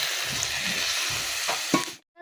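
Water splashes into a pan of frying potatoes and fish curry, a steady close sizzle with stirring scrapes, then a sharp hissing burst near the end before it cuts to silence.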